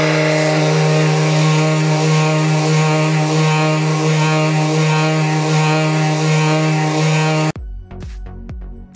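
A Festool DTSC 400 cordless delta sander works a surface to remove marked lines and oil, giving a loud, steady, close-up motor whine. The whine cuts off abruptly near the end, followed by a few light clunks.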